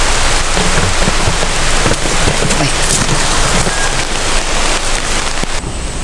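Rain pouring down steadily outdoors during slingshot fishing, a dense, loud patter of drops on surfaces that continues throughout, with a brief voice exclamation heard over it.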